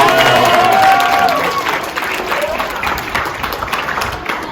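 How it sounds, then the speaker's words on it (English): Audience applause fills a pageant hall, loud and dense at first with some cheering mixed in, then settling into steadier clapping that continues to the end. "Give all of our answerers a round of applause"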